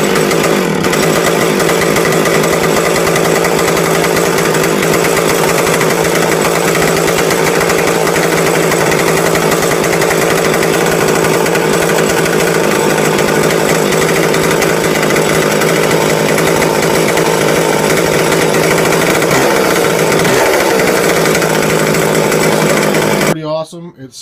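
A McCulloch 10-10 chainsaw runs after a cold start, a loud, steady two-stroke buzz at close range that holds nearly constant for over twenty seconds before cutting off at the end.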